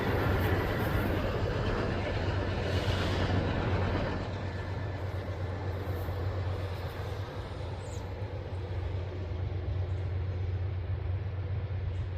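A train led by a remote-controlled locomotive unit rolls through downtown Galesburg as a continuous, heavy rumble with a faint high squeal on top. It stays steady and close throughout, easing slightly after the first few seconds.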